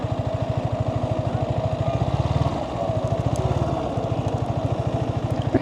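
A motorcycle engine chugs along at low speed in a steady pulsing rhythm, close and fairly loud, with faint wind noise over the top.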